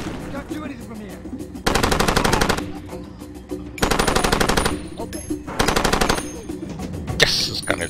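Player's gun in Far Cry 2 firing in three long automatic bursts, loud and close, separated by short gaps filled with quieter game sounds, with a faint voice underneath.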